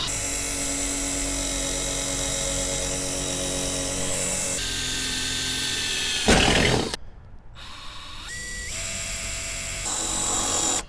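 A power drill with a larger bit whines at high speed as it bores through the metal of a vehicle bumper mount, stopping briefly partway and then whirring again, loud and close.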